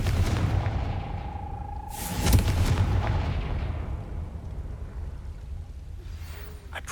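A Confringo fire spell going off in Hogwarts Legacy, a booming blast around two seconds in over a low rumbling backdrop, then a decaying wash of sound.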